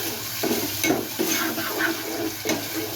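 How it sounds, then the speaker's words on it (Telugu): Ginger garlic paste stirred into a hot pan for a samosa chaat masala, with a continuous sizzle and repeated soft scraping strokes of a spoon at a regular pace. "ఇప్పుడు అందులో ఒక టేబుల్ స్పూన్ అల్లం వెల్లుల్లి పేస్ట్ వేసుకుందాం ఒకసారి కలిపేసుకుందాం"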